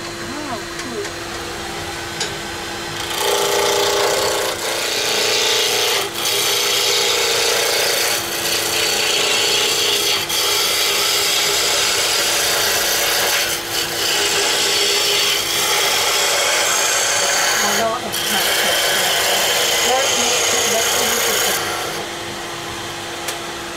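Tool being sharpened on a powered grinder in a wood pen workshop, a loud continuous abrasive rasping hiss over a steady motor hum, running about twenty seconds with brief dips, and people talking near the start.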